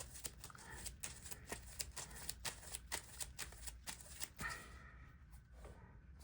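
A deck of Marvel Champions cards being shuffled at a tabletop game, a quick run of crisp riffling flutters and taps over several seconds, close and fairly quiet, ending in a short pause.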